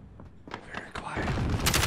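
Hip-fire gunshots in Call of Duty: Modern Warfare crack in quick succession, starting as scattered shots and building into a dense, loud burst of rapid fire.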